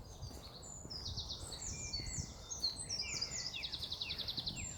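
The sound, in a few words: birds singing outdoors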